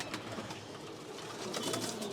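Young racing pigeons kept by a pigeon fancier in Keraniganj coo softly amid a steady, noisy background, with no talk over the calls.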